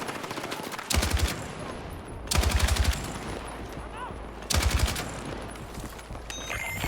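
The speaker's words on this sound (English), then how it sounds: "fire in short bursts with a little bit delay between shots so that your accuracy doesn't" Gunfire in Battlefield 6 comes in three short, loud automatic bursts separated by pauses, with a background hum between them.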